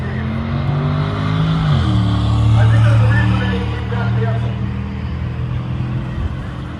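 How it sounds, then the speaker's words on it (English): Race car running on a quarter-mile drag strip, a loud sustained engine rumble that shifts pitch partway through and then holds, heard from nearby with crowd noise and voices mixed in. "we're about to watch the A-Team race"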